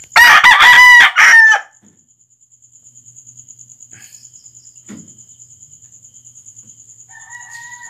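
A gamefowl rooster crows once loudly and close at a gamefarm, followed by a quiet stretch of steady cricket chirping and a faint distant crow.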